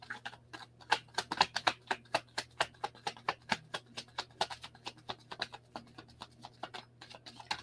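Tarot cards are shuffled by hand in quiet, close, rapid riffling taps, an irregular patter of dozens of soft clicks with brief pauses, and no voice over it.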